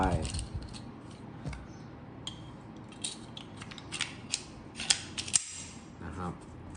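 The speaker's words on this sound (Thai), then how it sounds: "จะลองประกอบกลับนะครับ ก็ลองกับประกอบกลับเลย" Parts of an Aksa SIG Sauer P365 blank pistol being fitted back together, small metallic clicks, scrapes and snaps scattered irregularly at close range, faint to moderate, with someone speaking quietly at times.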